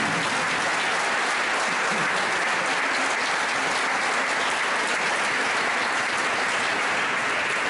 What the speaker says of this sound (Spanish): Para ti, este aplauso así de fuerte